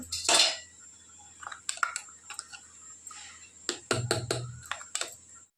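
Spoon clinking against a steel bowl or pan while ginger-garlic masala is mixed, with a few scattered metallic taps and scrapes, close and moderately loud, with no talk.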